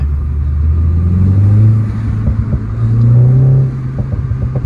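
A car engine fitted with an aftermarket cold air intake revs steadily from inside the cabin, its low droning rumble swelling twice over a few seconds, with no talk.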